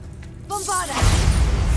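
A Bombarda spell in Hogwarts Legacy starts with a short magical chime, then a sudden loud explosion with a deep booming roar and a shattering burst that stays strong to the end.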